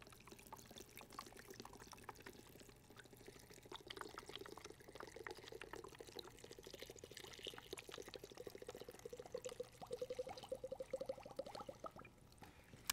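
Coconut water pours steadily into a juicer or blender for homemade juice, a quiet, continuous liquid trickle rising toward the end, close and faint.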